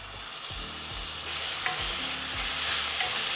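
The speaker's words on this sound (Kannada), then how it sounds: "ಒಂದು ದೊಡ್ಡ ಸೈಜು ಟೊಮೆಟೊ ಸಣ್ಣದಾಗಿ ಹೆಚ್ಕೊಂಡಿರೋದು ಟೊಮೆಟೊ ಹಾಕ್ಕೊಳ್ಳೋಣ" Finely chopped large tomato hits onions frying in a pan for nuggekayi masala, giving a loud, steady sizzle with repeated scraping stirs of a spoon and no talking.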